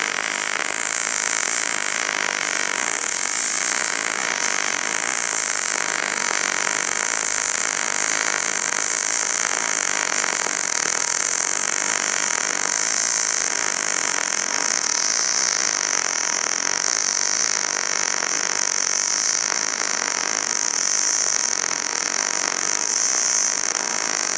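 Steel plate, about 1/8 inch, being welded with an HTP Freedom 250 Pulse MIG welder, the bead walked up and overlapping the last one; a steady, close, loud crackling buzz runs without break throughout.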